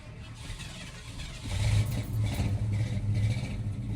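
A 1984 Ford Bronco engine cranks and catches. A quiet stretch gives way to a steady, louder low engine rumble from about halfway through, with no talking.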